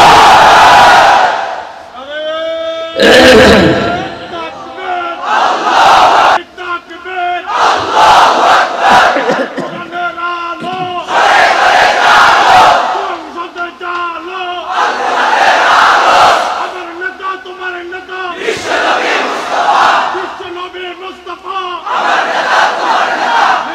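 A large crowd chants the Islamic takbir slogan in loud, rhythmic unison call-and-response bursts at a religious sermon gathering, with repeated swelling roars over about twenty seconds.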